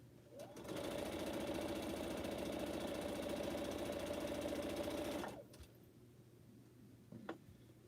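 A sewing machine stitching quilt pineapple blocks runs in one steady, rapid mechanical whir for several seconds, then stops, leaving faint room tone and a small click.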